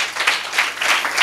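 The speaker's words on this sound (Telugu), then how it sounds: "just give claps to Jesus" A church congregation at a Sunday service claps for Jesus, in a brief burst of group clapping that swells and dips in uneven waves, with no talking.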